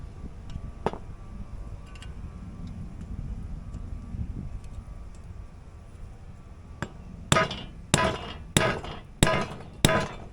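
Hammer blows on stuck, pressed-in wheel studs of a Jeep Cherokee after penetrating oil: a few faint taps and rustling, then five loud, sharp metallic strikes at an even, steady pace close by.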